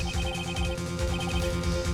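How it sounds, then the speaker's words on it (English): A phone ringtone trills in the Phoenix Wright: Ace Attorney video game, a steady electronic chime over a busy backdrop of game music, with no talk. "I heard a phone ring just now."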